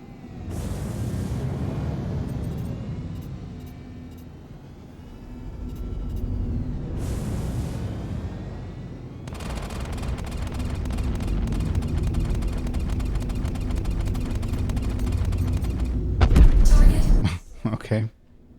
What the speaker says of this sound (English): Let's expend some missiles.